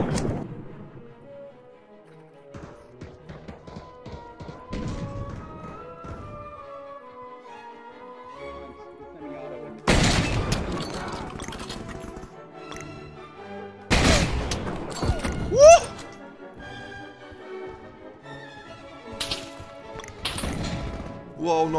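.50 cal anti-tank rifle fired in the Pavlov VR shooter game: several loud, sharp booming shots burst out at intervals amid game sounds and music, with a voice talking between them.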